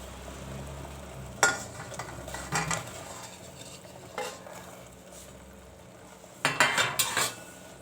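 Small rasgulla balls drop into boiling sugar syrup in a home kitchen, with a steady bubbling hiss beneath and several sharp metallic clinks of a utensil against the pot, alone without talk.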